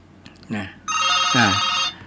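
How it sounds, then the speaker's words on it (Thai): A telephone rings twice in a Thai radio studio during a call-in program, the first ring short and the second longer, bright and electronic, close and clear. "ก็มีท่านผู้ฟังโทรศัพท์มาเนาะ ขอรับโทรศัพท์ก่อนเนอะ"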